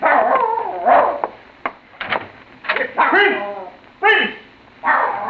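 A dog in a 1945 old-time radio mystery drama gives a series of close, loud barks and yelps in uneven bursts, with a muffled, narrow-band broadcast quality.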